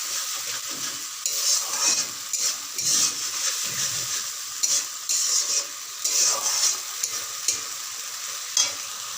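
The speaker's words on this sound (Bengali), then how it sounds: "মশলাটাকে ভালো করে কষে নিই।" Spice paste sautéing in oil in a pan, a continuous sizzle broken by repeated rhythmic scrapes and clinks of a spoon stirring, close and moderately loud.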